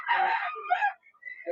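Chickens of various breeds at a backyard seller's stall in a pet market, a close rooster-like crowing call followed by a brief gap and another short squawk.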